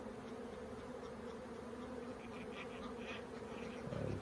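Honey bees drone with a soft, steady, humming buzz during a backyard hive inspection among brood frames, fairly faint but continuous, with a brief louder swell at the end.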